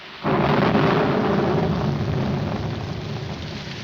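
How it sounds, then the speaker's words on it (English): Heavy rain and rolling thunder in a 1947 comedy noir film scene, a loud continuous roar that swells in abruptly and then holds steady, slowly easing off, with no voices. "Put this top up. It's going to rain."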